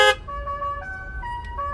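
A car horn sounds in a sustained multi-tone blare, starting with a sharp onset and holding steadily for nearly two seconds, fairly loud and close.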